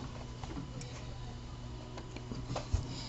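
Serger sewing machine top stitching an accent strip at a 3mm length and 7mm width, a faint, steady mechanical hum with light ticking, run slow and even.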